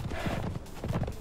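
Horse hooves clip-clop in a quick, steady rhythm as a mount is ridden across open ground in the PC game Conan Exiles, Isle of Siptah map, close and clear with no voices.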